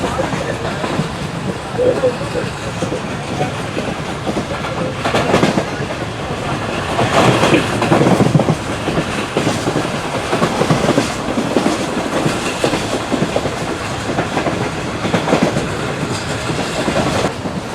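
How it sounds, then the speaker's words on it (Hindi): Rhythmic clickety-clack of the Karakoram Express's new coaches on rails, running at 160, loud and close, with a continuous rumbling roar and repeated clattering bursts throughout. "मज़ेदार ट्रैक साउंड के साथ CNR कोच 160 पे चलने वाला आगे बढ़ रहा है हैदराबाद के लिए"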